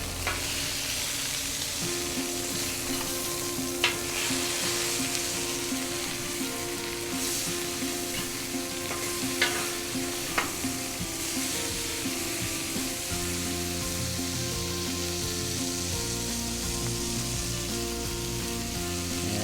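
Frozen burger patties sear on a hot smoker grill with a steady, loud, crackling sizzle that runs continuously, broken by occasional sharp pops and spatula scrapes, with a low background hum.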